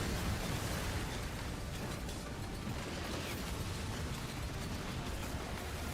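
A dense, roaring wall of explosions in the action game Bayonetta 3, a continuous rumbling blast-like texture with no clear breaks, steady and moderately loud.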